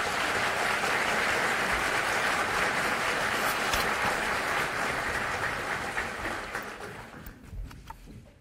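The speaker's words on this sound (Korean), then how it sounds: "박수 한번 보내주십시오" A ceremony audience applauds in a dense, steady roar of clapping that thins and fades toward the end.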